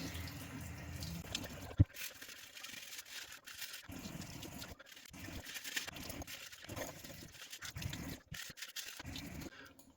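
Hot water mixed with Ludwik dish soap runs over a circuit board from a Beninca HEADY 230V gate opener, a steady sink-like wash of water with intermittent scraping and handling, close and without talk.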